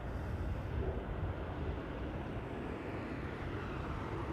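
A Qatar Airways Boeing 777 at Amsterdam Schiphol gives off a faint, distant, steady jet roar with a broad rumbling hiss and no voices.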